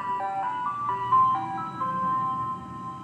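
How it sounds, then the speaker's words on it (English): An ice cream truck plays its tinkling melodic jingle on a street, a bright repeating tune heard clearly at moderate distance over a low rumble of traffic. "It's like your damn ice cream truck."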